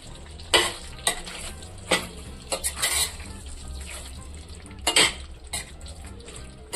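Fried brinjal being stirred into a gravy in a pan: a soft bubbling sizzle broken by sharp, irregular scrapes and clinks of a spoon against the metal, close up.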